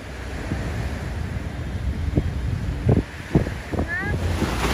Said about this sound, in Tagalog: At napakalakas ng hangin kasi nga sa bagyong Jenny, grabe.